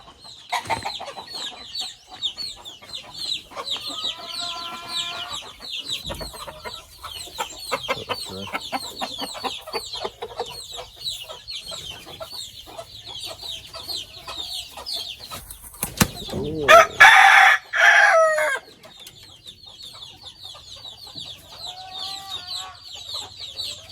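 Backyard chickens clucking around their coop while waiting to be fed, with wing flapping and a loud burst of squawking near the middle, close by and fairly busy throughout.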